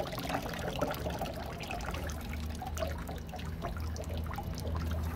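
Water is poured steadily into a potted fruit tree during repotting, a continuous close trickling and splashing that runs throughout with no talk.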